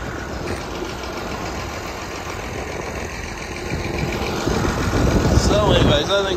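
An old Massey Ferguson 1130 tractor with a straight pipe exhaust runs nearby, a loud steady rumbling engine note that swells slightly toward the end, with a voice speaking over it.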